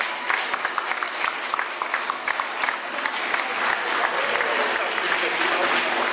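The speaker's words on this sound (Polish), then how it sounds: "prosimy o brawa" An audience applauds at a family cycling rally prize ceremony, with dense clapping from a mid-sized crowd that swells and holds steady, and a voice briefly heard beneath it.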